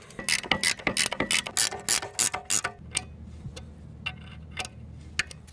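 Quick ratcheting clicks in rapid bursts as a ratchet tightens the brake caliper bolts on a Jaguar XJ6 X300, close and loud, then a quieter pause with a few scattered clicks and a low hum.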